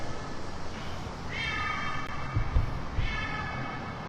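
A kitten meows twice outdoors, short plaintive calls about a second and a half apart over a low rumbling background with a couple of soft thumps between them.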